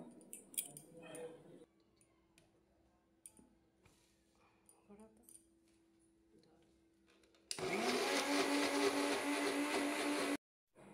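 An electric kitchen grinder runs loud and steady for about three seconds, whirring as it blends onion and tomato into a paste. Quieter kitchen clatter and a low hum come before it, and the motor stops abruptly.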